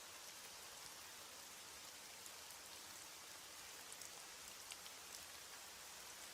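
Steady night rain falls evenly in a soft, continuous hiss of drops, with scattered faint patters on top and no voices.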